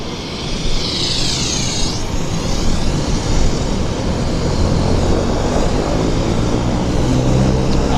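An airliner departs Vancouver Airport (YVR), its engines giving a loud, sustained roar with a rising, sweeping whine early on, settling into a steady broad rumble.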